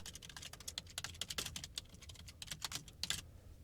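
Rapid typing on a computer keyboard while entering a new user's details and email address in a WordPress admin screen; an irregular run of close, crisp key clicks with small bursts and pauses, no voices.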